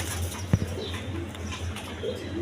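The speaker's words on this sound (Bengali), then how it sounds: "লাহোরি নর কবুতর" A Lahori blue bar male pigeon gives a soft, low coo near a short burst of sound early on, faint against a steady background hum.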